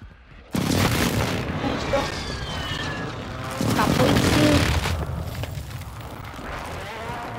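Airstrike explosions in a Call of Duty match: loud booming blasts rolling in one after another, with a heavier burst midway, under a player's voice talking over the game.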